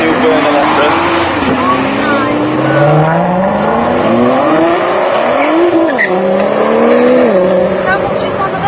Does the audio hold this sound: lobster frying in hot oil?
no